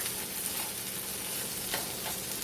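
A spinach artichoke grilled cheese sandwich cooking in a pan with melting cheese, giving a dense, steady close sizzle and frying hiss with a few brief crackles, heard alone.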